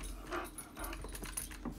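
Dog from the Minecraft video game, running around, gives soft whimpering and panting sounds over a steady dense game background noise, fairly faint and continuous.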